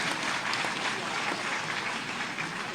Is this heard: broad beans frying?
no